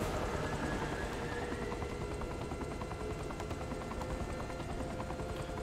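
A helicopter in the action video game Saints Row The Third drones steadily as a continuous rotor and engine roar, even and unbroken throughout, with no voices over it.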